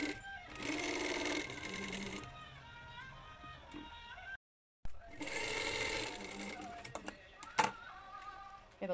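A sewing machine stitches a seam joining three pieces of a bra cup. It runs in steady bursts with a short stop partway, and there are a few sharp clicks and taps.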